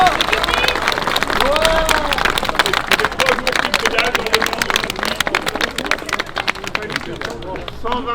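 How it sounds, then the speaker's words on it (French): Crowd applause and cheering greet a cyclist arriving after a three-day Paris–Rouen velocipede ride, dense steady clapping throughout with voices mixed in. "je crois qu'il mérite vraiment vos applaudissements"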